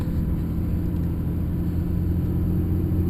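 Diesel truck engine heard from inside the cab while driving at an auction grounds, a steady low rumbling drone with constant cabin hum, loud and unbroken throughout.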